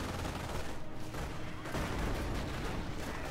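Sustained, dense gunfire from a World War II battle in the strategy game Company of Heroes, rapid overlapping shots and bursts rolling continuously and loudly throughout, with no speech.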